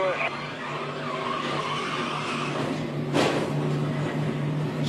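A NASCAR stock car at the 2013 Coca-Cola 600 slides and spins without contact, with a steady engine drone, a brief burst of tire squeal partway through, and commentary talk over the top.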